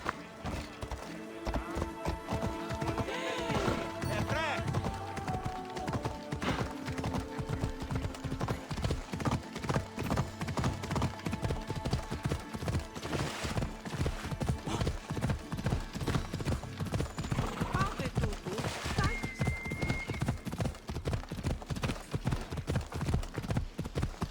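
A horse gallops in the video game Assassin's Creed Odyssey, its hoofbeats a loud, steady, rhythmic clip-clop running continuously throughout, with faint game ambience underneath.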